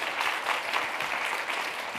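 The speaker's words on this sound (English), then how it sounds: "please give a round of applause to all of our patients, patient advocates, patient organizations in the room" Audience applause at a health symposium, a steady, dense wash of many hands clapping at even strength throughout, with no voices over it.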